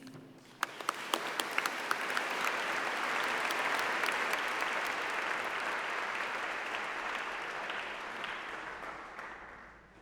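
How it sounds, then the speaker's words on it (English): A graduation ceremony audience at UCLan bursts into sustained applause, starting with a few scattered claps that swell into a steady, dense roar of clapping before tapering slightly, heard from a distance in a large hall. "be sure that you clap and cheer and make this a day for everybody to remember"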